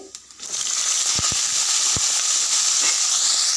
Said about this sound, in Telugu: ఒక 2 స్పూన్ల ఆయిల్ పోసుకొని కొద్దిగా జీలకర్ర, ఒక 10-15 పచ్చిమిరపకాయలు వేయాలి